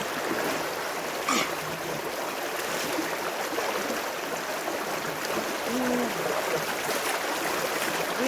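Water flowing and trickling steadily during an outdoor bath in a village, a continuous close splashing stream with little variation.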